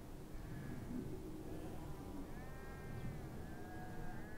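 A large flock of sheep in the Caucasus bleats in scattered, overlapping calls over a steady low rumble of the herd, several voices rising at middle distance.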